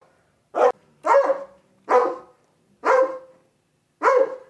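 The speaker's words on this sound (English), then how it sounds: "That's my sheepdog." A sheepdog barks five times at close range, short sharp barks spaced out with brief silences between them.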